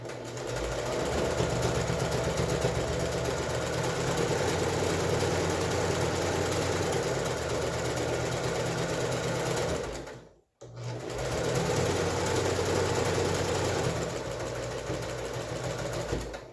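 A sewing machine stitches pleats on a face mask, running in one steady, loud continuous whir, stopping briefly for a moment and then starting up again.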